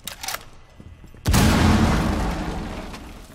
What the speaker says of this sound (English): Throwing a grenade in there.